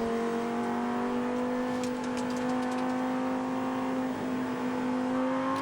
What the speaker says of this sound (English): So you're riding with Venturini as he comes over the brow and sets the car up for the next sequence of corners